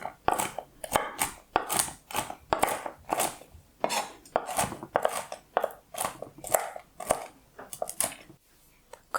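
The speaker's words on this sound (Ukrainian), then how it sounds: "Грубо порубаю горіхи." Rapid, steady knife chops coarsely cutting nuts on a board, close and loud, repeating in quick bursts with short pauses.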